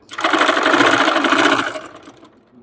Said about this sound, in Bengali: এরকম ভাবে এই সাইডে একটা সেলাই দিব, তারপরে এই সাইডে একটা সেলাই দিব